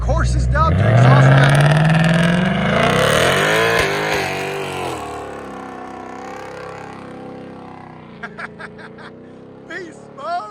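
A 2024 Ford Mustang Dark Horse with a 5.0L V8 and X-pipe exhaust pulls away loudly, its engine revving upward in a rising roar before fading into the distance, while people talk and laugh nearby.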